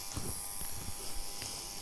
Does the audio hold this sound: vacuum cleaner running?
yes